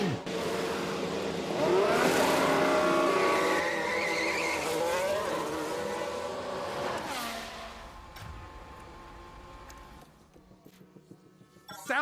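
Formula 1 race car in F1 Manager 22 locks its brakes, a loud tyre screech over roaring engine revs that fades out, with another car passing as the noise drops away.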